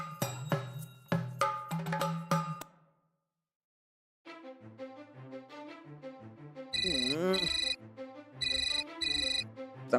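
A phone ringtone plays a loud, repeating electronic melody, then pauses briefly before chiming again in steady bursts.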